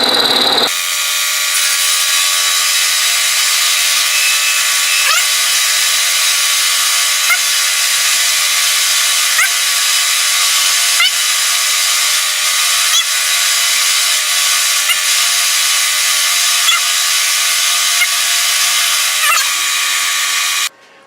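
A milling machine fitted with a 5/8 end mill faces a metal part flat, giving a loud, steady, continuous whine with faint periodic ticks throughout, then stopping abruptly at the end.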